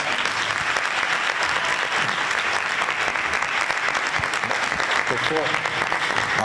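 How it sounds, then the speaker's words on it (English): An audience at a mayor's family meeting gives a sustained round of applause, many hands clapping in an even, unbroken roar for several seconds. "Let's give my sister another thunderous round of applause"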